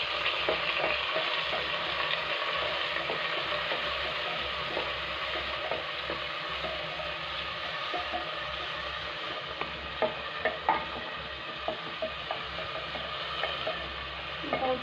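Onions and fenugreek seeds frying in a pan for tomato pulao, giving a constant loud sizzle with crackles and a few stirring scrapes toward the end, with no talking.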